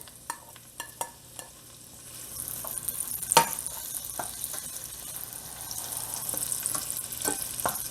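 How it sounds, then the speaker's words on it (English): Onion hits melted butter in a pan over medium heat, starting with a few spoon taps and a sharp clank, then building into a steady close sizzle with stirring. "Now the heat is over medium, the butter is melting. Now add the onion."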